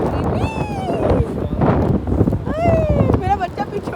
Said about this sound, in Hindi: लीड्स में इतनी तेज़ हवा थी.